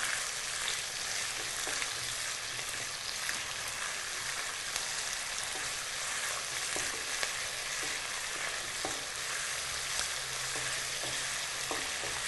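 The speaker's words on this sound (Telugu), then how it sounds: "ఈ అల్లం వెల్లుల్లి పేస్ట్ కూడా ఆయిల్లో పచ్చివాసన పోయేలాగా ఫ్రై చేసుకోవాలి." Ginger garlic paste frying in oil in a pan, a constant bright sizzle with scattered crackles and small pops, close and steady, with no voices.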